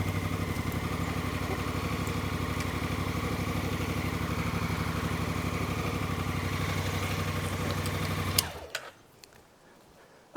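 A Honda Africa Twin motorcycle engine runs at a steady idle with an even, rapid mechanical patter and clatter, then cuts out abruptly near the end, leaving near silence.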